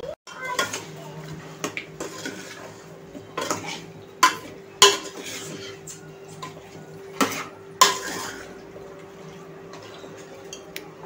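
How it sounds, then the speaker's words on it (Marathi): Chicken curry being mixed with salt in a metal pot, with scattered spoon scrapes and sharp clinks against the vessel over a low background hum, near and moderately loud. "मीठ टाकूया। आता आपण याला मिक्स करूया।"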